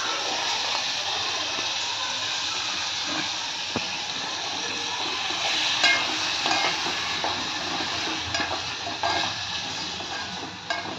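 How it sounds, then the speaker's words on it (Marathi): Goat intestines are stirred and fried in a pan, giving a continuous close sizzle and hiss with occasional scraping and stirring clatter. "तर बघा वजडी टाकल्यानंतर थोडी परतायची जेणेकरून ते खाली चिटकणार नाही."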